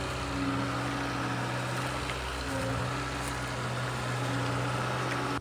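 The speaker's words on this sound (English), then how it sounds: "We're literally reversing through the bog." A car with no power steering reverses through a bog, its engine a low, steady drone and hum with faint sloshing and rumbling throughout.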